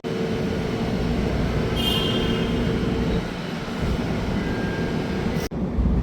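Chicago Orange Line elevated train in motion, a steady loud rumble of wheels on rails with faint squeals and a brief jolt near the end, heard from inside the car with no talk.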